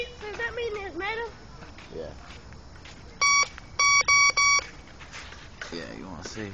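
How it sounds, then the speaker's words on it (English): A metal detector gives a series of short, bright electronic beeps in quick bursts while sweeping over buried metal, with people talking before and after the beeps. "When it beeps, does that mean it's metal?"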